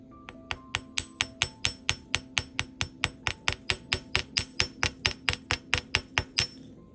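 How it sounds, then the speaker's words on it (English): A ball peen hammer strikes the tip of a wire pendant, a steady run of about two dozen sharp metallic taps at an even quick rhythm, close and clear with a faint background hum. "I'm going to use the ball peen hammer and just hammer out that little small tip there."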